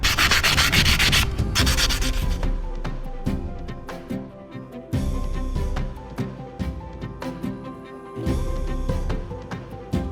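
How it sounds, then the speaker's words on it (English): Sandpaper rubs rapidly back and forth in bursts, a close, raspy scratching that pauses briefly between strokes. "here you can see where there's a little bit too much material and where I have to sand it off"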